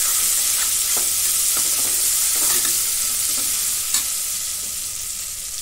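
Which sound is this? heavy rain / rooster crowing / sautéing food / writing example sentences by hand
sautéing food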